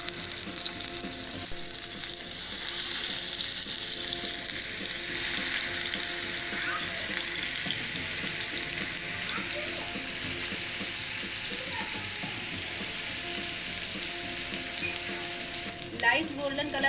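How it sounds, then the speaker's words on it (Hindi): Chicken seekh kebabs frying in ghee on a hot tawa griddle give a steady, close sizzle that runs without a break, with faint kitchen clatter and a short clink near the end. "इसको उठाएंगे और तवे पे रखेंगे।"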